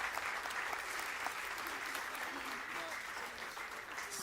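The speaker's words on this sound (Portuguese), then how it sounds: "Você pode aplaudir bem bonito ao Senhor e dizer amém?" Church congregation clapping during a Sunday service, a continuous even wash of many hands throughout, heard from a distance and fairly quiet.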